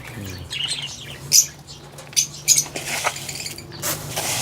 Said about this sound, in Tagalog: At sa ating mga African lovebirds.